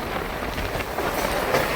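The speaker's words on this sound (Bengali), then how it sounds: "ফুলিয়া রেল স্টেশন ছেড়ে ছুটে চলেছে ট্রেন" A local train leaves Fulia railway station in Nadia on the Ranaghat–Shantipur line, producing a steady, loud rumble of rolling wagons with rattling wheel noise throughout.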